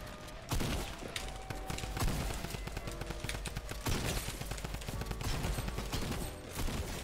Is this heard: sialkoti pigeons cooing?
no